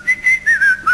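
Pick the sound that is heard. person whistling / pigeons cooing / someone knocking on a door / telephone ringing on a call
person whistling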